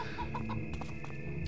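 Bird clucking in the video game Zeno Clash, a few short clucks rising over a steady bed of game music and ambience, close and fairly loud.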